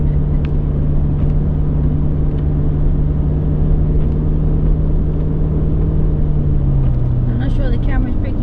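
A car drives along a Highland road into a cloud, its engine and tyre rumble a loud, steady low drone throughout, with a slight drop in pitch near the end and a faint clatter over it.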